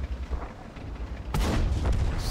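Tank cannon fire in the video game World of Tanks, in a T-44-100 match: one loud, heavy boom partway through, following a brief stretch of low rumbling battle ambience.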